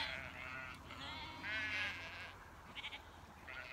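Sheep bleating in a farm field around a feed bucket, several wavering calls at moderate distance over a steady outdoor background, with faint voices mixed in.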